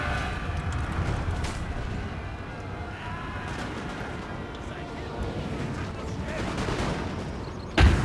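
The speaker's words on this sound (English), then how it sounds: "Yeah, they can fire across the bridge" Musket volleys crackle across a bridge in Napoleon: Total War, a steady rolling fusillade of small distant shots over battlefield rumble, with one sharper burst near the end.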